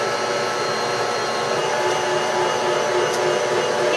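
An electric stand mixer kneads bread dough made from freshly ground grain with a little vitamin C added, giving a steady, loud, continuous motor whir that holds unchanged for the whole stretch with no talk.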